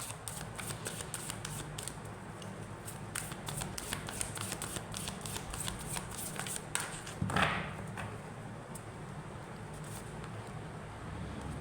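Tarot cards are shuffled and drawn in a steady run of crisp riffling and flicking, close and continuous, with a brief soft thump partway through.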